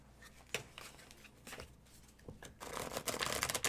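Tarot cards being shuffled by hand, a run of soft papery riffles and slaps that grows denser and louder toward the end, close by with no talk.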